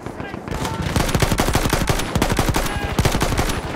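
Rapid machine gun fire in Battlefield 1 trench combat, loud, dense bursts of rattling shots continuing throughout with no pause.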